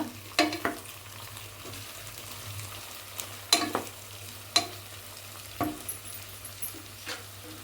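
Capsicum frying in oil in a pan, a steady low sizzle broken by several sharp crackling pops and stirring scrapes, close and alone with no voices.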